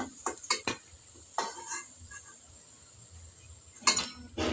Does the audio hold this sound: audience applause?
no